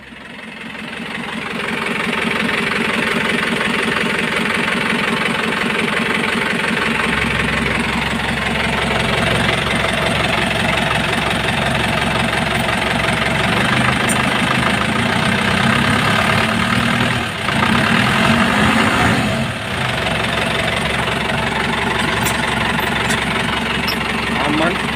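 A 2013 Isuzu Elf diesel truck idles steadily and loudly up close, its low engine rumble constant and unbroken throughout.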